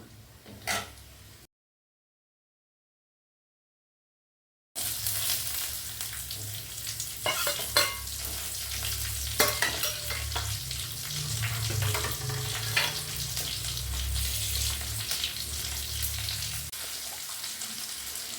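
Chopped shallots sizzle and fry steadily in a pan of sambar, with scraping stirs and small clinks on top of the continuous hiss, close by, after a brief gap of silence.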